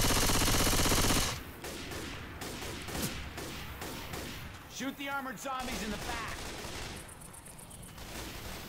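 Gunfire in Left 4 Dead 2 with low gravity, bursts of rapid shots crackling at close range, first dense and loud, then scattered shots under a man's speech and game noise.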